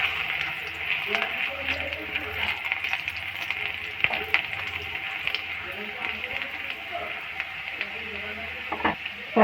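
Chopped ginger and garlic fry in a pan for chilli peas. A steady hissing sizzle runs throughout under a voice talking, with a few utensil knocks.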